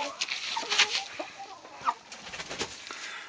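Large Cornish chickens settled on their roost cluck and murmur in short, scattered bursts, fairly close, with occasional sharper calls and no talking.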